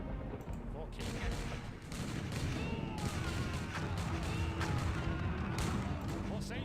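Cannon fire and volleys of musket gunfire in the Empire Earth strategy game, a dense, continuous battle din of overlapping shots and booms with speech mixed in.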